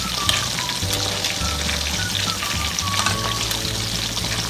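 Pork ribs deep-fry in oil with a loud, steady bubbling sizzle that fills the whole stretch, close and unbroken, with faint crackles riding on top.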